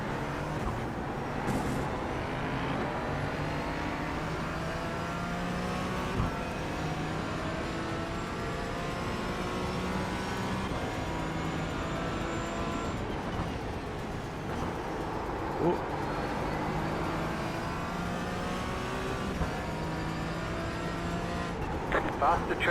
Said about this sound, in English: Group of faster cars approaching.